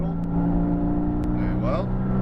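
Race car on a Las Vegas circuit drones loudly and continuously as it accelerates back on throttle, its engine harmonics holding steady, while a voice briefly speaks over the noise.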